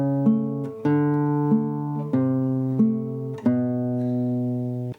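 A classical guitar repeats a fast passage from Giuliani's Op. 100 Etude No. 11, this time alternating the first and second fingers. The plucked notes ring on and flow smoothly and evenly, close up, with no voice.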